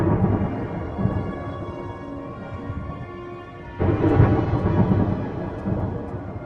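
Deep rolling thunder rumbles over a steady wash of rain, with a louder crack and rumble swelling midway before easing off.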